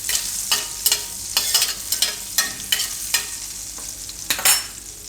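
Bay leaves and dried red chillies frying in hot oil sizzle steadily and close, broken by repeated scraping strokes of a spoon against the pan in an irregular rhythm; no talking.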